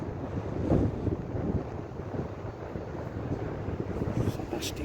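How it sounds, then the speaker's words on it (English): Steady wind gusting under a bridge beside a river running well above its normal level, a broadband rushing roar with microphone buffeting, constant throughout and close. "There's a nasty wind blowing right underneath here."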